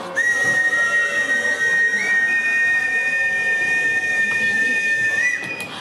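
A steady, high whistled tone holds for about five seconds with slight pitch wobbles, loud and close, with no talking.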